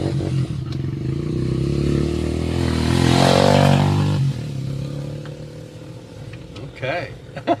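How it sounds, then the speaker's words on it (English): A motorcycle approaching and passing on a rural road through hilly countryside, its engine note swelling to a loud peak mid-way before fading, heard from inside a vehicle with a voice talking over it. "We got a motorcycle man going to pass us here."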